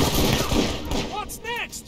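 Bursts of gunfire from the real-time strategy game Iron Harvest rattle at moderate loudness, mixed with short synthetic tonal beeps and game sound effects.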